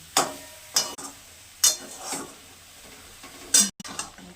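Ridge gourd sautéing in spice paste in a pan, heard as a spatula scraping and stirring in separate strokes over a soft, steady sizzle.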